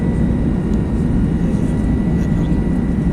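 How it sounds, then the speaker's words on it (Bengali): An airplane coming in to land at an airport in Oman, heard from inside the cabin as a loud, continuous low engine and airflow roar that stays steady throughout. "এই তো এয়ারপোর্টের এরিয়াতে এসে পড়ছি, এখানে ল্যান্ড করবো।"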